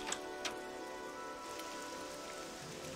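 Steady rain falls in the Morrowind video game, a soft, even hiss of drops pattering on surfaces throughout, with a couple of faint ticks near the start and no voices.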